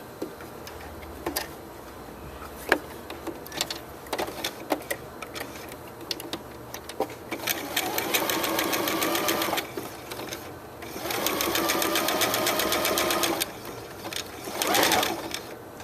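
A sewing machine stitches free-style appliqué in two sustained whirring runs. Quiet ticks and fabric handling come before and between the runs, all at a low, close level.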